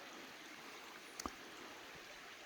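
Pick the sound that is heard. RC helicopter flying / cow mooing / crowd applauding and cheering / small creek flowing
small creek flowing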